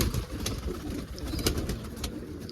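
Pigeons cooing nearby in a coop, soft repeated low coos over a steady background hum, no talking.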